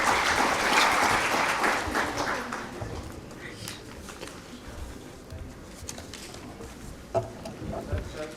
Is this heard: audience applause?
yes